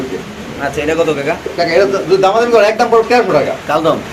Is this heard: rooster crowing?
no